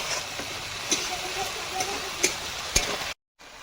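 Onion and spices frying in hot oil for a chicken leg curry: a steady close sizzle with occasional sharp stirring clicks, cutting abruptly to silence just before the end.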